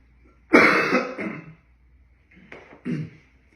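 Two rough coughs close to the mic, a longer harsh one followed after a pause by a shorter throat-clearing cough.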